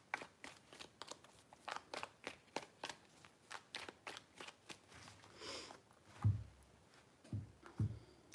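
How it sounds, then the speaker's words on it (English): Tarot cards are shuffled by hand in a quiet room, a rapid, regular run of soft close riffles followed by a few heavier taps and knocks. "3 shuffles."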